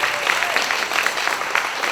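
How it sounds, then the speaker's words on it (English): A school audience at Jones School gives its teachers a round of applause, a short, dense burst of clapping heard up close with no speech over it. "Give them a round of applause"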